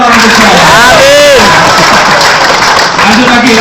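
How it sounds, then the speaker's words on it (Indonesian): Seminar audience in Busan, South Korea breaks into loud, dense applause with cheering and crowd noise, a speaking voice running over the clapping throughout. "Tepuk tangan buat calon orang besar."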